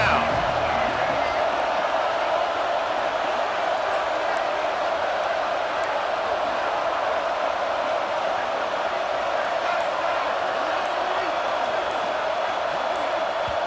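In the College Football 26 video game, a stadium crowd makes noise on third down, a loud sustained roar that holds steady throughout while a commentator talks over it.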